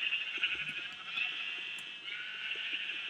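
Several sheep bleat in Minecraft, overlapping in a steady, moderately loud layer with a few faint clicks, and no talking.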